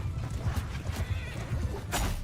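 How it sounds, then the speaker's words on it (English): A horse whinnies in the medieval battle game Bannerlord, mixed with clip-clopping hooves over a busy low rumble of battle noise, with a louder neigh near the end. "Ooh, horsey."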